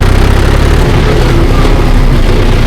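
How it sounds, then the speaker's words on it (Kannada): A loud, steady John Deere 5075E 75 HP turbocharged tractor engine rumbles up close with a constant low drone and a faint higher turbo whine riding over it, no voices present. "ಆಕ್ಸಿಲೇಟರ್ನ ರೈಸ್ ಮಾಡಿಬಿಟ್ರೆ ಟರ್ಬೋ ಸೌಂಡ್ ಕೇಳುತ್ತೆ"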